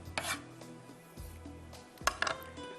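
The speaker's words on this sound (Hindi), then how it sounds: "बिल्कुल बारीक बारीक इसको चॉप करेंगे।" Knife finely chopping onion on a board in a kitchen: a few quick clusters of crisp cutting taps separated by brief pauses, close and fairly quiet.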